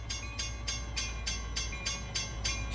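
A model locomotive crosses a railroad crossing on an RO-scale layout, giving a steady, evenly spaced clicking rhythm over a low rumble with a faint sustained tone, quiet and moderately distant.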